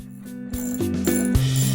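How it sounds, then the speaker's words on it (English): A ratchet clicks in short bursts while tightening bolts on an Ikea bed frame inside a Promaster van, close and distinct with uneven pauses between strokes. "you want to ratchet each bolt a little at a time"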